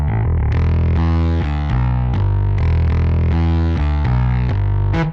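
Chorus bass line from the UJAM Slap virtual bass in a rock track, driven through fuzz distortion, playing a continuous run of thick, buzzy notes with rhythmic accents, loud and alone throughout.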